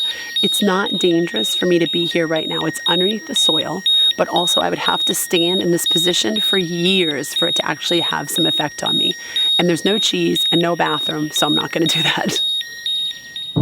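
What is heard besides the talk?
radiation counter beeping over radioactive soil, Chernobyl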